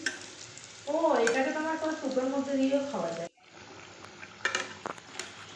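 Momos frying in a pan, flipped over to cook the other side: a steady sizzle with clattering handling sounds, a voice talking over much of it before the frying continues alone.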